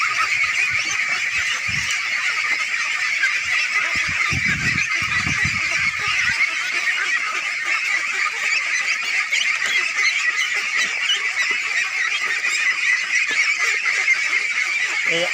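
A large flock of ducks on a village pond farm in Bangladesh quacks and honks in a dense, constant din, loud and unbroken throughout, with a few brief low thumps early on.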